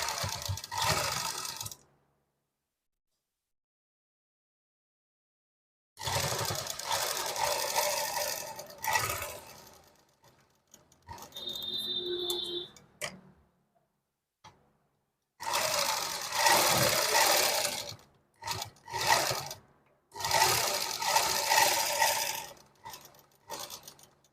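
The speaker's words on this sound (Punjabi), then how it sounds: "ਉੱਪਰੋਂ ਇਹਨੂੰ ਇਸ ਤਰ੍ਹਾਂ ਫੋਲਡ ਕਰ ਦੇਣਾ ਤੇ ਸਿਲਾਈ ਲਗਾਣੀ ਸਟਾਰਟ ਕਰ ਦੇਣੀ" Sewing machine stitching lace onto a garment neckline and shoulder, running in several bursts of steady mechanical whirring separated by pauses and quiet handling.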